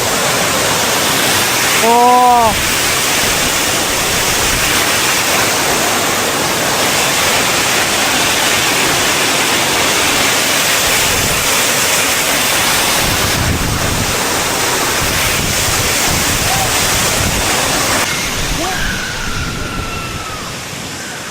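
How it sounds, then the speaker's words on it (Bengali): A waterfall beside a trail on the way to Sajek roars loudly and continuously up close, mixed with gusty wind buffeting the microphone, while a voice briefly speaks over it. "যাওয়ার পথেই আর কি আপনাদের একটা ঝর্ণা দেখালাম।"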